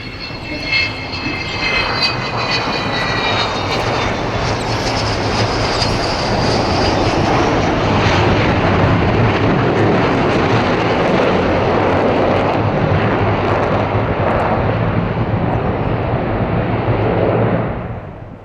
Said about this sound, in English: a touch on the throttles of the 4 Rolls-Royce Bristol Olympus 202